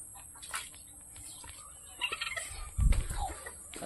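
Laying hen clucking softly under a banana tree on a small farm, a few quiet clucks and low bursts of noise that grow louder near the end.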